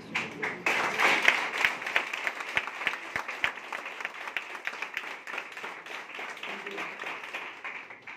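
An audience breaks into applause, with many hands clapping together loudly at first and then settling into a softer, steady patter with a few sharp individual claps.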